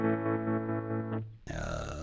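A guitar chord played through a MayFly Terrain Deluxe effects pedal in normal mode rings out with a steady distorted tone, then a new chord strikes in with a brighter, grittier attack.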